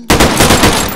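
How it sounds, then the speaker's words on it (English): Short, loud burst of machine gun fire from Garry's Mod, several rapid shots hammering close by in a tight rhythm with no voices over it. "That's the regular machine gun."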